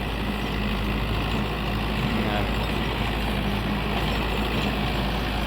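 A tractor engine running steadily in a field during harvest-cutting work, a continuous low rumbling drone that stays close and even throughout, with no breaks.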